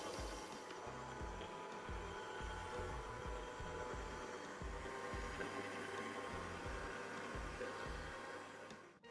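A stand mixer beats shortbread dough at third speed, giving a continuous whirring motor drone with a rhythmic low thumping from the beater, steady and close until it stops right at the end.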